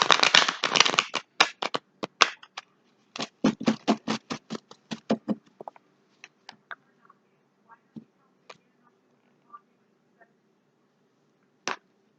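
Crisp riffling of a card deck being shuffled, rapid flutters at first, then thinning into scattered single snaps and taps that end with one last flick.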